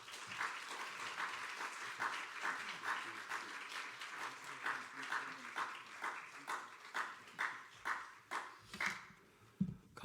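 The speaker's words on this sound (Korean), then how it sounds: "우리 송 회장님 나오실 때 한 번 더 박수하겠습니다" A church congregation applauds, scattered clapping that settles into loud, rhythmic clapping in unison, with each beat getting more distinct toward the end.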